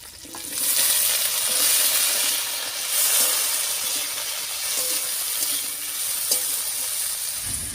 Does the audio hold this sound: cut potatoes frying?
yes